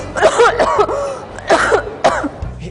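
A woman in an Indonesian TV drama coughs in short, harsh fits, a cluster of coughs followed by a second bout, close and fairly loud, with no talk over them.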